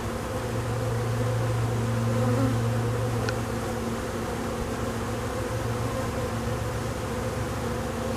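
A rebellious honeybee colony buzzes at its hive, a dense steady drone of many bees heard close and continuous throughout, with no voices.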